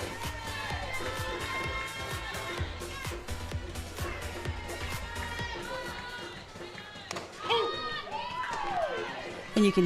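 Crowd noise and rhythmic drum beats fill the stands at a women's open club championship softball semi-final between Bears and Ōtāhuhu in New Zealand, steady throughout under continuous commentary talk.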